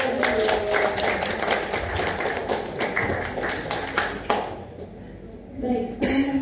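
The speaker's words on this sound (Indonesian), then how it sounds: "Oke, tepuk tangan lagi sekali lagi." Seminar audience on green finance claps in a loose, uneven burst that thins and fades after a few seconds, then picks up briefly again at the end.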